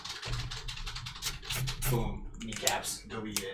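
Rapid clicky keyboard typing with a person talking over it, the keystrokes dense and fairly close.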